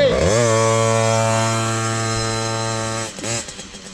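A 2019 KTM 50 SX Mini dirt bike engine revs hard and steady on a test ride, a loud buzzing two-stroke tone holding for about three seconds before dropping and fluttering as the throttle eases off.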